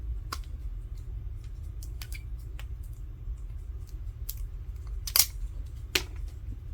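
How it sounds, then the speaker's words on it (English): A few small snips and clicks as a metal tab is cut off a 1955 Chevy Bel Air AM radio part, sparse sharp cuts over a low steady room hum. "So I'm going to cut this whole tab off of here."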